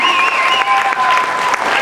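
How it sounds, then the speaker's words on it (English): An audience at a talent-show charity auction applauds the auctioneer, with dense, steady clapping filling the room for the whole moment. "How about a round of applause for our auctioneer?"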